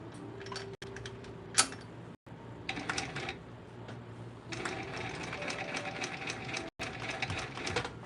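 Cylinder-arm sewing machine stitching through very thick material, running in uneven bursts of rapid mechanical clatter with brief stops, a sharp knock and a few short pauses, close and fairly quiet.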